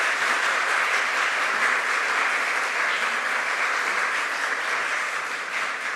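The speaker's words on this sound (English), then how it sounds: "Let's give them all a big round of applause" A congregation applauds for the choir at a Unitarian Universalist Sunday service: dense, sustained clapping from a large group fills the room steadily, then eases slightly near the end.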